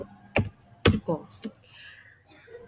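Several quick keystrokes on a computer keyboard, a few sharp separate clicks in an uneven rhythm, close and fairly loud, with faint background sounds between them.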